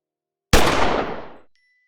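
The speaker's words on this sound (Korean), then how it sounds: "경찰서 밖에서 총소리가 들려왔습니다." A single loud gunshot cracks out of silence outside a police station, its boom trailing off over about a second before quiet returns.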